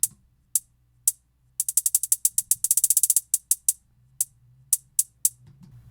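Programmed hi-hats from an Ableton Live template, EQ'd to strip all the lows and trim a little of the top, tick alone in a crisp, bright pattern of sparse hits and quick rolls, with no voices.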